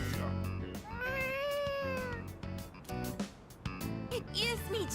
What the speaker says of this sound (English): Oh, I heard a cat.